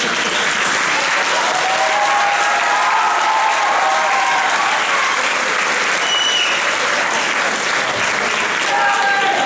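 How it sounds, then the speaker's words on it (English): Sustained applause from a large crowd at a school talent show, loud and steady throughout with a few faint whoops and voices mixed in. "a great big round of applause"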